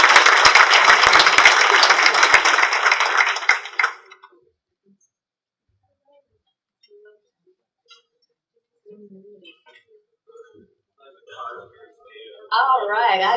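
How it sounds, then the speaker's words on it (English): A conference audience at the Invest: Greater Fort Lauderdale 2019 launch claps as speakers join the stage, a loud burst lasting about four seconds, followed by near silence and then a voice speaking. "let's give them a round of applause"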